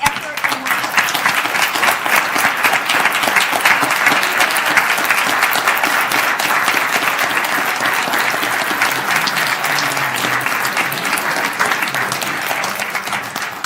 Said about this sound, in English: Teachers, family members, if you could stand up and applaud all the children